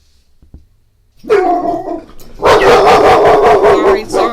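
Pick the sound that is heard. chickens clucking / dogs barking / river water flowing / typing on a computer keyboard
dogs barking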